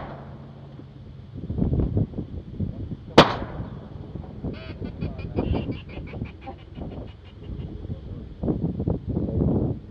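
A single sharp shotgun blast cracks out mid-clip during a teal duck hunt from a boat near Venice, standing out against wind buffeting and people talking before and after it.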